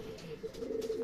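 Racing pigeons returning from training, with soft cooing calls close by, a brief low murmuring coo repeated a few times against faint background noise.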